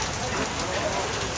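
Heavy rain pouring in a jungle near a tiger reserve in Jim Corbett, a dense, continuous hiss of downpour filling the whole moment.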